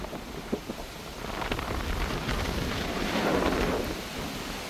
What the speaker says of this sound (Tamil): தொப்பியை பறந்துட்டு பார் அப்படி அடிக்குது, காற்று அடிக்குது.